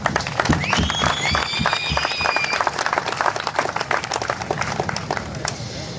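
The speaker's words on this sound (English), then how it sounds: "So they all deserve a round of applause as well." Crowd at an MDA charity ride stage presentation applauds the volunteers, with dense clapping and some cheers and whistles filling the space over a mix of other crowd noise.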